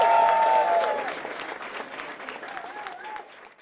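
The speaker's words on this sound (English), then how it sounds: "Once again, a round of applause for these guys." An audience at a Meltdown evening with Grant Morrison and Gerard Way claps. The applause is loud at first and then thins and fades over a few seconds, with some crowd murmur and cheering underneath.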